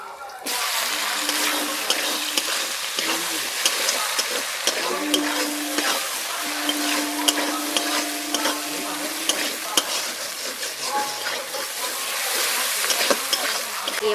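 Chopped onion frying in hot oil in a pan with ginger, garlic and tomato for a spicy flat-bean dish, giving a steady close sizzle with stirring scrapes, while a voice hums in the background.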